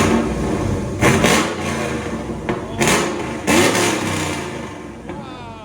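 Cammed Chevy Silverado V8 fitted with headers and a used CORSA muffler, a loud, rough idle punctuated by several sharp revs that swell and fall back, heard up close.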